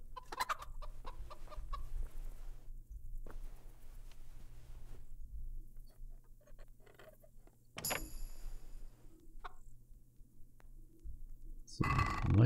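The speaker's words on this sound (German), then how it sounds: "Hühner hier drin, ne?" Chickens cluck in an indoor pen in the medieval game Kingdom Come: Deliverance, scattered short calls over a steady low hum, with a louder flurry of clucks near the end.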